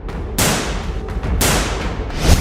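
Gunshots ring out in a targeted killing in Kulgam, Kashmir, a few sharp, loud bangs about a second apart, each followed by a short echoing decay.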